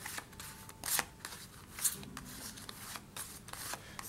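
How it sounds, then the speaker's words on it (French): Playing cards shuffled by hand for a card trick, a run of quick riffling bursts and soft rubbing strokes, close and fairly quiet, with no talk. "j'ai bien mélangé les cartes"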